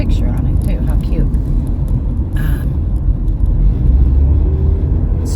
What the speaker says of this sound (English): I got this big truck in front of me.